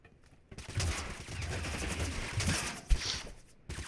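VSS rifle gunfire in the video game TABG: a rapid stream of shots heard over steady game background noise, fairly loud, with one sharper shot standing out near the end.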